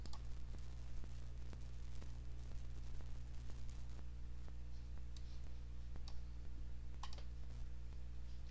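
Computer clicks and taps while pressing the Build Unit button in the HotPotatoes Masher program, heard as a steady run of faint, close, regular ticks over a low hum, no talking.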